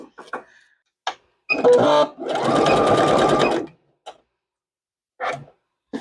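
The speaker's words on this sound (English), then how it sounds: "pivot and sew all the way down to the other notch." Sewing machine stitching a half-inch seam on fabric for an off-shoulder cape, heard as a few short clattering bursts and then one sustained run of stitching lasting nearly two seconds, close and loud, with no talking.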